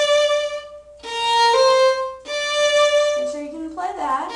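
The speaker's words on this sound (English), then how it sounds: "The next part's going to go up bow slur" Solo violin playing Gypsy Waltz, bowed notes with rich harmonics: a sustained tone, then a slurred up-bow passage sliding between pitches, followed by a down-bow phrase, close and clear with brief breaks between strokes.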